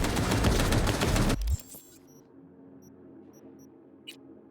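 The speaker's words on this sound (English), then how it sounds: "Shotgun'll do it!" A shotgun blast barrage in a video game, loud dense firing that cuts off abruptly after about a second and a half, leaving a faint hum and a few tiny game blips.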